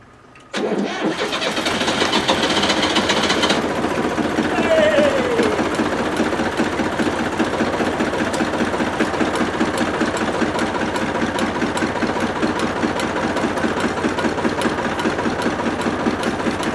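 Two dead diesel engines cold-started off a Topdon JS2000 jump starter: after a brief quiet moment a loud crank catches into a steady, rough, clattering idle that runs on, with a voice briefly heard over it.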